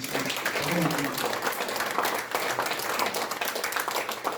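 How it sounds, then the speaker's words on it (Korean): Audience applause at the opening ceremony of a memorial hall, a dense, even wash of many hands clapping that holds steady throughout, with a voice faintly underneath early on. "우리 신철식 전임 회장에게도 크게 응원의 박수 보내주시기 바랍니다"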